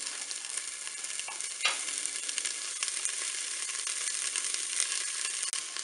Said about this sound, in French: Je vais mettre mes tranches de jambon dans la cuve.